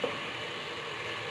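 Tomatoes softening over low heat in a pan for lobia dal, a soft, even sizzle that holds steady and continuous, close and fairly quiet.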